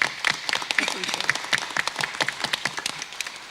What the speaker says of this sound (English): So if everyone join me in a round of applause for the people that could not be here today.